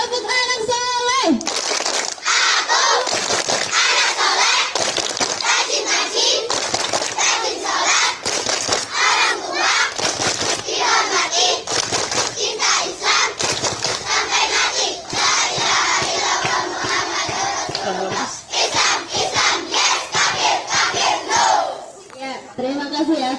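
Children at an Indonesian religious school chant "Tepuk anak soleh" together, loud and continuous, with rhythmic hand claps and excited shouting throughout, a crowd of young voices filling the whole stretch before tapering at the end.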